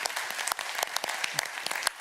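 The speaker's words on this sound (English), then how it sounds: "please join me to give a round of applause to them" Round of applause for board members at the opening of an international treasury summit; many hands clapping in a brisk, uneven patter with distinct individual claps, fairly close, without talk.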